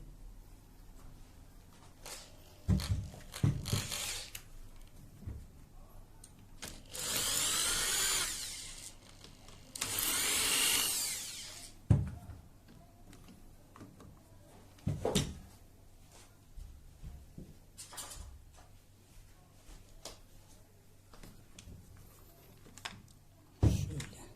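Screws are being taken out of a Hatsan Escort MP pump shotgun stock with a power driver, giving two clear whirring bursts among scattered clicks and handling knocks in a quiet room.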